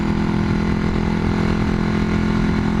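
A 1981 Yamaha XS400 Heritage motorcycle engine running a little ragged, a loud, close, steady throb with an uneven pulse that holds without a break.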